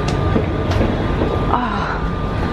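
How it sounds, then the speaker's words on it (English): A double-decker train rides through Paris, a loud steady rumble of wheels and carriage noise with faint clicks and a thin squeal, heard from on board. "There's double-decker trains, we love them, don't we?"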